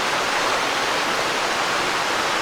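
Creek water flows along a nature trail, a steady, loud, even rushing wash with no breaks, and no one speaking.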